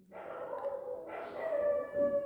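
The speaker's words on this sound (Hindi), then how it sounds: "पहले रात में भौंकते थे, अब दिन में भी चालू हो गए भाई" Dogs bark and howl nearby, giving tonal, drawn-out yelping cries that rise and fall in pitch, one overlapping another, with a brief low bark near the end.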